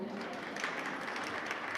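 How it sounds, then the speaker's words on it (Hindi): A seated religious audience at a Jain discourse gives quiet, diffuse applause, steady and faint throughout with no voices over it. "जो हाथ खड़े नहीं कर पा रहे हैं वो इनके लिए तालियां बजा दें"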